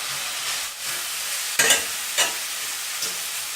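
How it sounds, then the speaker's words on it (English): Continuous frying sizzle with a couple of louder scrapes as a spoon stirs a chicken and hot Madras curry powder mixture around the pan. "into the mixture I'm frying up."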